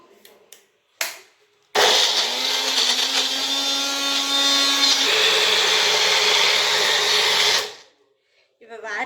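A mixer grinder whirs loudly for several seconds, its motor pitch dropping as the load changes, after a few clicks and before stopping abruptly.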